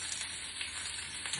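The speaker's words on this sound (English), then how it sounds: "Okay, quick stir." Breakfast food sizzles and crackles steadily in a pan while a silicone turner gives it a quick stir, the frying soft and even throughout with a few light scraping taps.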